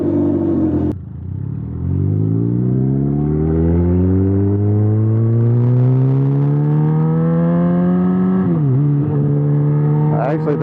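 A motorcycle engine idles, then its throttle is opened and the revs climb steadily and loudly before dropping slightly and holding, close by.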